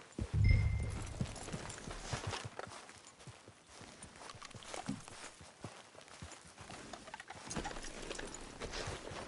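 Steady clip-clop of horse hooves walking at an even pace in Red Dead Online, fairly close, with light ambient noise and a brief low thump at the start.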